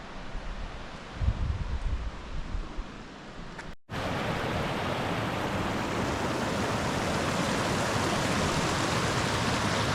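Mountain creek water rushes on the Mount Whitney trail near 10,600 feet, first as a softer, uneven wash with some rustling, then after a brief cut as a loud, close, continuous roar of flowing water.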